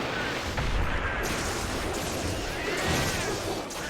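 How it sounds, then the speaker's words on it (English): An exploding kick lands in Monster Hunter Generations Ultimate, a booming, gunfire-like burst of blasts sounding loud and dense across the whole moment, with crackling debris over a constant rumbling game backdrop. "Gonna do an exploding kick there"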